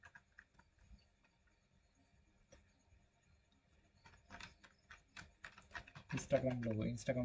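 Typing a search on a computer keyboard, faint sparse key taps at first building into a denser, louder run of clicks, with a person speaking over the final seconds.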